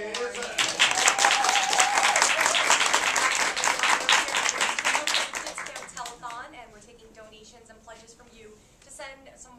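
Steady applause from a crowd fills the first several seconds, then fades out, leaving scattered voices and a bit of talk, at a television telethon.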